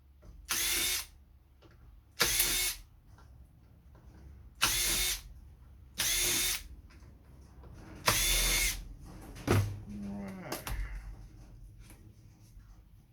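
A power drill backs screws out of marine radar equipment in repeated short, loud whirring bursts with quiet gaps between them, followed by small handling clicks and rattles.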